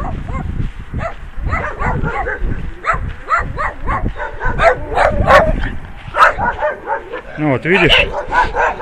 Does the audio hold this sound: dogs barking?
yes